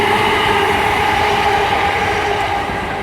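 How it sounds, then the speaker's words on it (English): A Class 319 electric train passing on the L&M line at Earlestown, a loud continuous rumbling roar with steady wheel noise and motor whine, close by and slowly easing off toward the end. "And the train is well, it's not going that fast"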